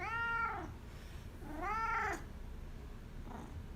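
A cat meows twice in clear, drawn-out calls, followed by a faint third one, close up in a quiet room.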